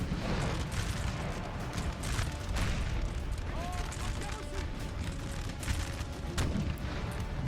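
Artillery booms and musket volleys in Napoleon: Total War, a dense, continuous rumble of distant cannon and crackling infantry fire rolling across a battlefield with no clear pauses.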